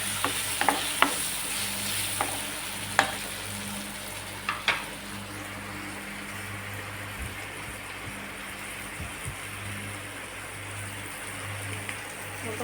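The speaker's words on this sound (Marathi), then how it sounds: "परतत असताना हळद टाकून परतून घेऊ." Vegetables and soybean sautéing with turmeric in a pan for khichdi, a steady low sizzle throughout with occasional sharp stirring clicks and scrapes, no talking.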